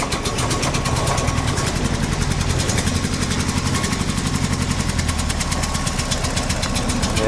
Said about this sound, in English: nice cold start on the 45-degree day.